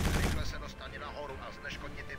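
Bursts of gunfire shooting at mines in the Quake 4 video game, a loud blast at the start followed by scattered shots, with game sounds continuing.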